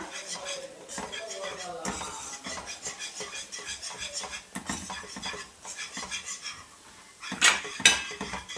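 A spoon scrapes and stirs Mysore pak mixture with oil in a metal pan, close and continuous clinking and scraping with a few sharper knocks against the pan toward the end.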